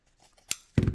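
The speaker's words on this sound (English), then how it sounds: "I'm going to cut that with my fancy scissors." Decorative scissors cut through scrap paper from a tissue box being made into a junk journal tag: a quick close snip, then a louder crunchy burst of cutting near the end of a short, otherwise quiet moment.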